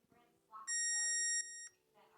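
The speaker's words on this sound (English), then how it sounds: "Listen for the long beep" A long electronic beep from MODOFO electric pruning shears during a long-press reset, steady and high-pitched for nearly a second, with someone talking just before and after.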